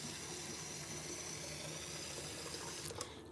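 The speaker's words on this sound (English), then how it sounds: "Just gonna put some water." Water runs from a kitchen tap into a cooking pot in a steady, continuous hiss and splash, fairly close and unbroken, with a slight change near the end.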